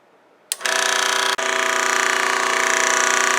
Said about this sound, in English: I'm going to switch the saw on